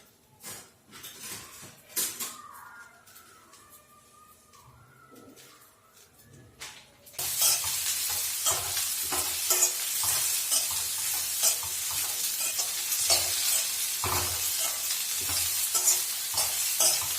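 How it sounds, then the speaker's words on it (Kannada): Okra frying in oil: quiet clattering and a few pan knocks first, then a loud, continuous sizzle and crackle takes over, with frequent spatula scrapes against the pan. "ಬೆಂಡೆಕಾಯಿನ ಸ್ವಲ್ಪ ಆಯಿಲ್ ಹಾಕೊಂಡ್ಬಿಟ್ಟು ಫ್ರೈ ಮಾಡ್ಕೊಂಡು"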